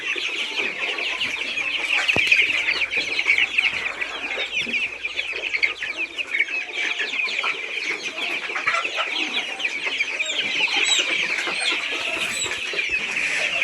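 Chickens at a Bangladeshi poultry seller's stock of ducks, hens, quail and turkeys cluck in a dense, continuous chorus, a busy flock close by with no break across the whole stretch.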